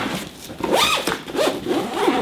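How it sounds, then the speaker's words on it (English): A zipper is pulled closed around a longboard bag holding a tripod, several quick rasping strokes in a row, close and clear with no talking. "once I zip it around, zip it back up"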